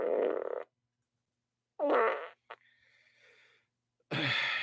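A sound guy plays fart sound effects on a live talk show: a few loud, isolated bursts, some long and raspy and one short blip, separated by silence.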